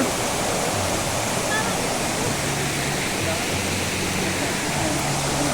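Ella Uda Ella waterfall in Sri Lanka roars as a steady, dense rush of falling water, loud and unbroken throughout.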